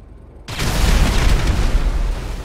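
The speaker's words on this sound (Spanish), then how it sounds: "Prepárate para ver los fuegos artificiales." A firework bursts with a sudden loud boom in GTA V, then a dense crackling roar that holds strongly for about two seconds after a near-silent start.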